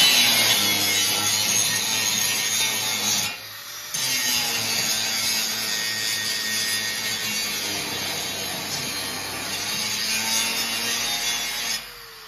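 An angle grinder, held tilted and pressed against metal, grinds with a continuous harsh, bright whine, briefly easing off twice and then resuming, close and loud with no talk.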